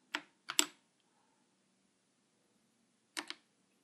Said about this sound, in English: You can use the space bar when you type your last name below.